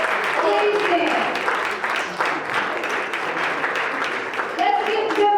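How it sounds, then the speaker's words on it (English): Audience applause at a pop music event, continuous dense clapping lasting several seconds, loud and sustained, with a few voices mixed into the crowd noise. "Let's give them a hand and a round of applause because they do good work"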